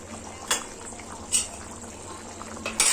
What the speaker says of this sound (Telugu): చూడండి, చక్కగా ఉడుకుతుంది.